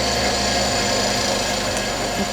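A yarn plying machine twists plies onto a bobbin with a steady mechanical hum and rhythmic low thumping, continuous and close, no voices.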